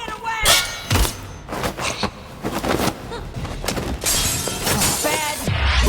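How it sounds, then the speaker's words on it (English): Glass shattering in Dishonored 2, a sharp crash near the start followed by a second break and scattered tinkling debris amid loud, busy game noise and thuds. "It sounded like broken glass."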